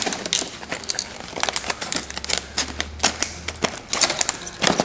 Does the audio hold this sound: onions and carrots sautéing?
no